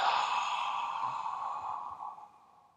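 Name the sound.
deep breath in and exhale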